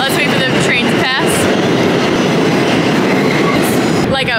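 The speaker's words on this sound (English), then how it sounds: "Let's wait for the train to pass." A train rushes past in New York City, loud and very close, with a steady roaring rumble of wheels on rails and brief metallic squeals.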